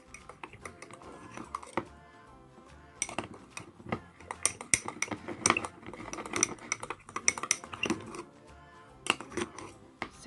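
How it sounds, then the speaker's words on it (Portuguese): A homemade air freshener mixture stirred in a container, with light scraping and clinking taps of a utensil against the sides in irregular bursts, fairly quiet and close. "Misture bastante para poder incorporar as texturas e o cheiro."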